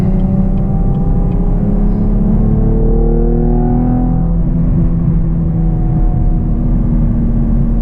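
A Camaro RS V6 1LE pulls hard in third gear from inside the cabin, a loud, droning engine note whose pitch climbs steadily across several seconds before leveling off.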